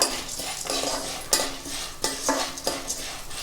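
Sago pearls stirred and roasted in a pan for jaggery sago-vermicelli payasam, with a steady scraping, rattling spoon sound and a few sharper clinks of metal against the pan; no voices.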